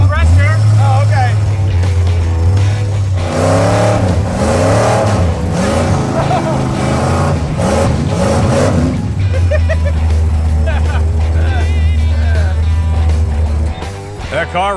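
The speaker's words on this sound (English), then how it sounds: "That car runs way better." An old drag race car's engine runs loud and close, a steady low rumble with rising revs in the middle, while people talk over it.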